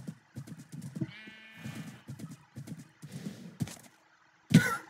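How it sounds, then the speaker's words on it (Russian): Sheep in the video game Minecraft give a few short bleats between repeated soft clip-clop footsteps on the ground, with a sharper, louder thump near the end, all at moderate volume with no talking. "Здрасте, овцы."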